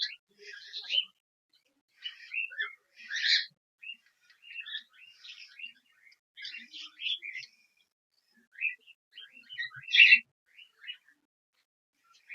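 Cockatiels chirping in quick bursts of bright, high calls, scattered and overlapping throughout, fairly close and moderately loud, with no talking.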